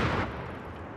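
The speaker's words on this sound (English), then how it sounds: "Indirect fire." Artillery indirect fire in the video game Company of Heroes 3, a loud booming blast at the start that settles into a dense, rumbling roll of distant explosions across the second.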